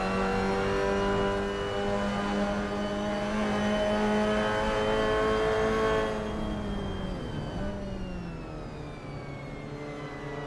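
Club racing cars in a Clubman Drivers Championship race at a circuit sweep through the final turn, a loud sustained engine whine that holds steady and then drops in pitch as the cars pass, with no talking.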